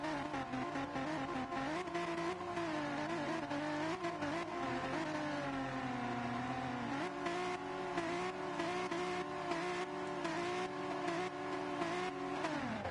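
BMW M4 race cars in GT Sport launch from the grid together, a dense, steady roar of engines revving and pulling away, with some wheel spin, loud and continuous throughout.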